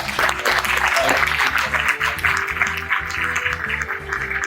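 A management-association audience in Surat gives a round of applause at a design-thinking talk, the clapping continuous and moderately loud over a rhythmic, pulsing music bed.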